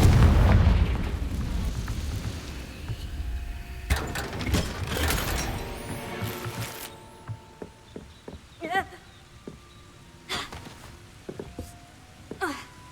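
Confringo fire-blast spell cast in Hogwarts Legacy, a heavy booming explosion with rumbling low end followed by sharp crackling impacts and scattered debris hits, while a voice speaks briefly in game.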